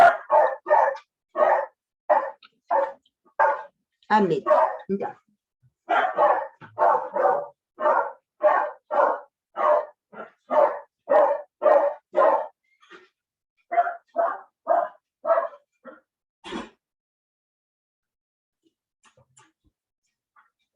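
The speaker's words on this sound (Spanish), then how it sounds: "te voy a ir a ver a los perros que están ladrando" Repeated barking from dogs, steady bursts over about fifteen seconds with a brief pause midway, then trailing off into quiet; a few words spoken.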